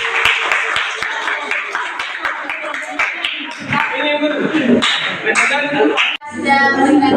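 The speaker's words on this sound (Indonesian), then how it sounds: "berikan tepuk tangan untuk kelompok" Scattered clapping from a high school classroom after a group presentation, sharp individual claps mixed with voices and chatter in a reverberant room.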